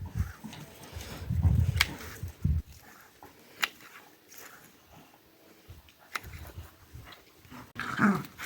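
Dogs tussle nearby with low growls and snarling bursts, scuffling sounds in between, intermittent and fairly quiet.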